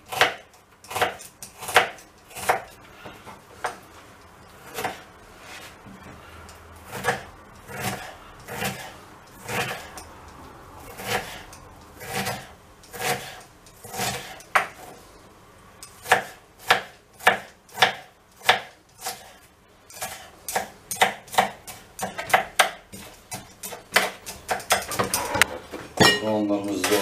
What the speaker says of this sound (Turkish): Soğanlarımızı doğradık.